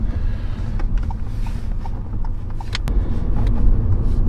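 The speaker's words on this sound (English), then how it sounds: "we're bouncing up and down because we're going over these horrendous, stupid speed humps" A Ford Fiesta ST Line or Vauxhall Corsa SXi+ hatchback driving over speed humps, heard from inside as a steady low rumble with a few sharp knocks and thumps from the suspension.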